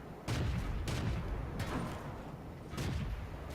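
Tank cannon fire in World of Tanks from a Matilda 3 shooting at a Marder 38T, with broadband booming blasts at about 0.3, 0.9, 1.6 and 2.8 seconds over a constant low rumble of battle noise.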